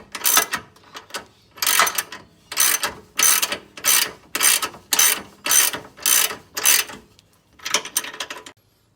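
A ratchet wrench tightens the bottom engine mount nuts on a VE-VF V8, clicking in about nine close, loud bursts of rapid pawl clatter with short pauses between strokes.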